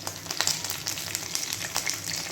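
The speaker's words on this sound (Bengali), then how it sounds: "আরেকটা দিক ভালো করে ভাজা হয়ে যাক।" A bora fritter frying in oil after being flipped, a gentle close sizzle with scattered crisp pops and spits over a low hiss.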